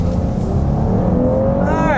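A 2020 Cadillac XT6 Sport SUV accelerates hard with its wheel turned, engine note droning steadily and climbing in pitch near the end, heard from inside the cabin with a voice talking over it.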